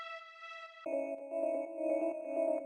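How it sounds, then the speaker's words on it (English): String sounds from the free BBC Orchestra plugin, a sustained bright tone that shifts into a fuller, warmer bowed string chord swelling gently in a steady pulse, moderately quiet with no voices. "This is from BBC Orchestra, which is free. They really got some cool and good"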